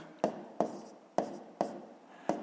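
Pen strokes writing out a fifth-grade math solution: five sharp, evenly spaced taps and scratches with brief trailing scrapes, close and fairly quiet, with no voice.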